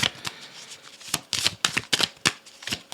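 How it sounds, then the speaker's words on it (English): Tarot cards shuffled by hand in a series of crisp riffling and flicking bursts, close and clear with brief pauses between them and no talking. "I will shuffle it and I'll grab, or a card can flick out if it likes"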